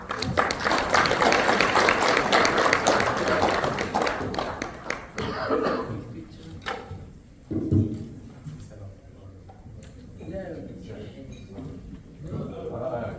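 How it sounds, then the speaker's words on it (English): Conference audience claps at the close of a panel on agricultural financing, a dense burst of applause for about five seconds that fades into scattered claps, light laughter and talk. "Let's have a clap."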